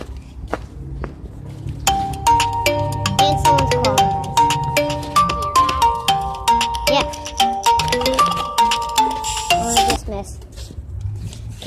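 A phone ringtone plays a repeating melodic chime pattern for several seconds, bright and clear, with rustling and footstep-like handling noise beneath it.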